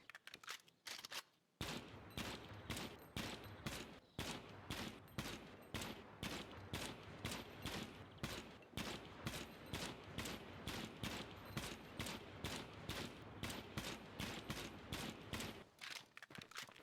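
Rapid, evenly spaced AK rifle shots in the video game Gunsmith Simulator, sharp and loud, in sustained bursts that fill most of the stretch after a short opening pause.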